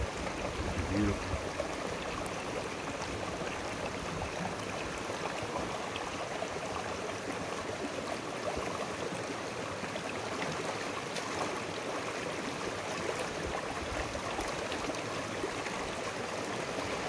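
The Gila River flows in the wilderness with a continuous, fairly soft rushing and trickling wash that stays steady throughout.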